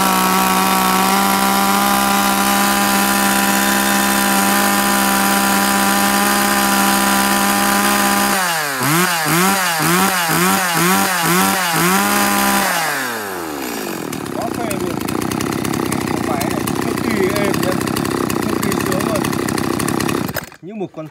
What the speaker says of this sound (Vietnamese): Một con cưa khai thác chuyên nghiệp, nghe tiếng máy quá êm luôn nhá